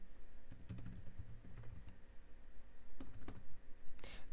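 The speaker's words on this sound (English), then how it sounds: "Helps if I type right." Typing on a computer keyboard while writing PHP code, close, irregular clusters of quick key clicks with short pauses between bursts, no voices.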